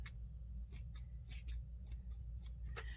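Scissors snip through fabric while cutting out gnome legs for a Dollar Tree craft, a close, crisp run of repeated cuts coming roughly twice a second with no talking.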